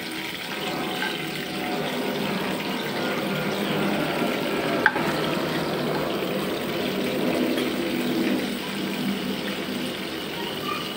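Bay leaves, cardamom and cinnamon frying in oil in a pan before cooking fish, a steady broad sizzle with a faint crackle and one small sharp tick midway.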